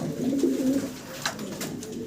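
Fancy pigeons in a loft cooing, a steady low throaty coo rolling on close by, with faint bird calls and light background noise.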